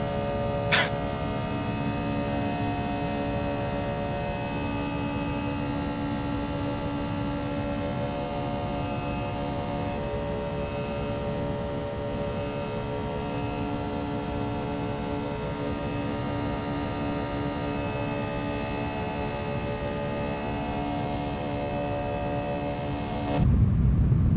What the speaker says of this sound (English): This plane is way too loud.